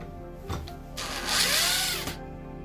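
A power drill driving screws into scrap wood whirs up, winds into a loud sustained grinding whine for about a second, then cuts off sharply.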